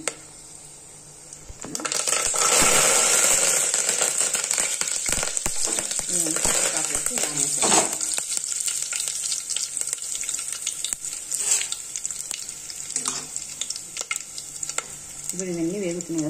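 Whole spices – cinnamon, cloves, cardamom and bay leaf – dropped into hot oil, erupting into a loud crackling sizzle that settles into steady frying with scattered stirring taps and clinks.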